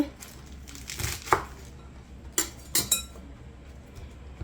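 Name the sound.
cutting spinach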